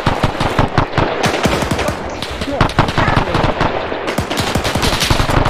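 Rocket artillery salvos and dense machine-gun fire in the video game Arma 3 during a WWII 1945 Battle for Berlin scenario, loud continuous rapid bursts and booms with players shouting over the barrage.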